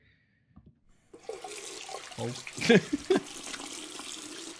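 A toilet flushes nearby, a rushing gush of water that rises after a second of quiet, swells to a peak and tapers off, with a short exclamation over it.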